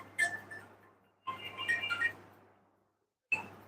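A phone ringtone chirps in three short bursts of bright electronic tones separated by brief silences, fairly faint against a quiet room.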